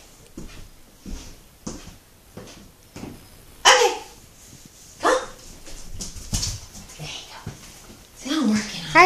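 A dog barks repeatedly during a training session indoors, sharp scattered barks and yips mixed with whimpers, while people talk and give commands throughout.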